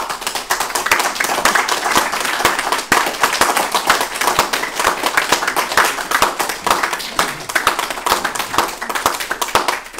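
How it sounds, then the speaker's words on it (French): Audience applause at a medal ceremony, dense sustained clapping from many hands filling the room at close range, steady from start to finish. "je vous invite à l'applaudir"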